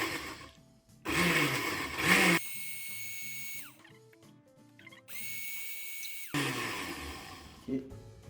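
A kitchen blender is pulsed slowly for a lemon and herb roast chicken recipe, giving two loud whirring bursts of about a second or two each, separated by a quieter stretch of low motor hum.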